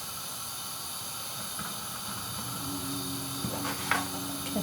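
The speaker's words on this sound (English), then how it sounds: "let the oil warm up and then add the onions to the oil" Chopped onions sizzle in warm oil with a steady close hiss, a few soft crackles and pops rising toward the end, with no talking.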